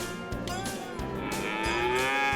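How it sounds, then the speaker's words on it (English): Cattle moo loudly and close by during a ranch cattle drive and branding gathering, several long drawn-out calls overlapping one after another. "we got around the cows and brought them down the road and got them in the pens"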